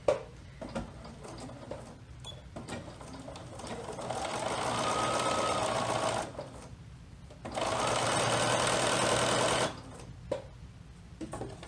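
Domestic sewing machine stitching folded fabric pieces for baby jumper shoulder straps, two long steady bursts of fast mechanical whirring with backstitching, separated by a short pause and framed by quieter handling clicks.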